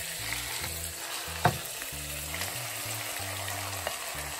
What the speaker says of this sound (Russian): Мы сейчас обжаренный лук добавляем.